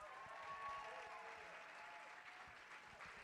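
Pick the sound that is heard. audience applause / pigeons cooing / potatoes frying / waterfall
audience applause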